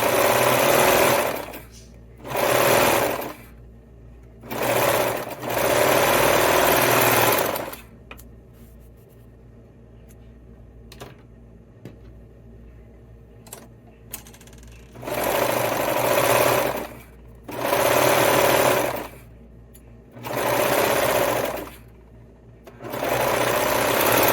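A sewing machine runs in several loud, close bursts as it stitches the lining seam of a winter beanie. Each steady whirring run is separated by a short pause.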